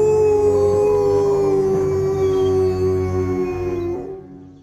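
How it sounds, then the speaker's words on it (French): Big bad wolf in a cartoon story lets out one long, loud, wavering howl, then fades away at the end. "le grand méchant loup les attendit patiemment"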